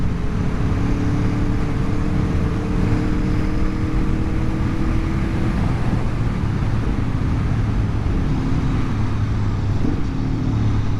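A 2020 Aprilia Tuono V4 1100 Factory motorcycle at speed, its engine droning loud and close with steady rising tones of acceleration through quick-shifted gears, under heavy wind rush.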